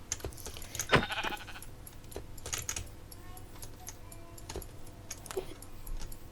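A sheep in Minecraft bleats once, short and wavering, amid game sounds and scattered clicks, with a low steady hum underneath.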